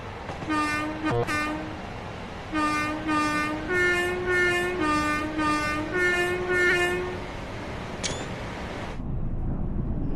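A loud, steady Class 802 train horn in the game Train Sim World 6 blares in several long, sustained blasts with brief gaps, over a constant rumbling background.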